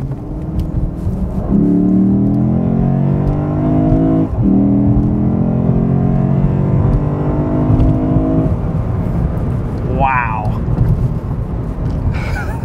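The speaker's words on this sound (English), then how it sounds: "Actually, it sounds like a very technological V8." A Lexus IS-F V8 engine revs close by, its smooth, rising harmonic whine climbing and holding for several seconds before it drops back to a steady rumble.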